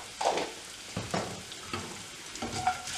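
Garlic frying in a little oil in a pan for okra milk curry gives a soft, fairly faint sizzle, broken by a few short stirring scrapes, with no voices.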